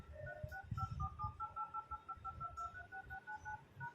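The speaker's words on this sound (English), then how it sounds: "so you can listen this dial pad tone in your oppo phone" Short electronic keypad beeps from an Oppo K10 5G phone's dial pad, a rapid string of tones pressed one after another over a faint rustle and low background noise.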